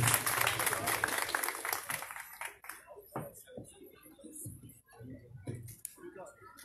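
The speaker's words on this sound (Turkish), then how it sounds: "Alkışlarınızla davetimi arz ederim" At an iftar gathering, an audience claps to welcome the mayor: a burst of crowd applause at the start that quickly thins into scattered claps, with someone speaking over the fading sound.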